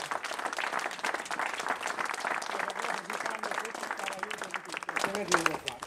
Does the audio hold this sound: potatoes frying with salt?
no